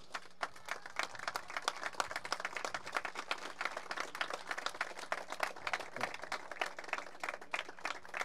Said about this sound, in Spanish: le brindemos un caluroso aplauso